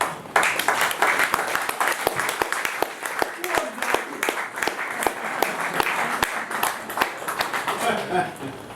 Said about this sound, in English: I applaud you, Jeff